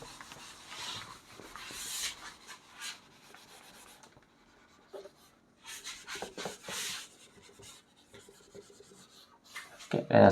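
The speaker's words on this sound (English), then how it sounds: "Let me erase this." Someone wipes writing off a teaching board in bursts of rubbing strokes, quiet and close, separated by brief pauses, with a louder scrape at the end.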